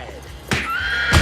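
A horse whinnies loudly at close range: one harmonic neigh of about half a second, followed by a brief low snort.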